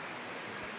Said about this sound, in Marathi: इकडं लय पाणी वाहत आहे बघा. किती प्रेशर आहे तिकडं.